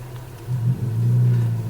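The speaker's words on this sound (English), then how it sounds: "That WRX up in front of us is real loud." A loud Subaru WRX driving ahead on the road gives a steady low engine rumble that swells after a moment and holds strong, heard from inside a following Acura TLX with no talk.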